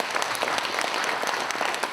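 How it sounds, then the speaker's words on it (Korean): Audience at a book concert in Cheonan applauds, a dense steady round of hand clapping from many people, even and sustained for the whole moment. "박수 한번 쳐주세요."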